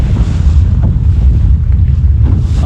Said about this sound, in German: Aber wir haben wunderschönen Wind aus Osten.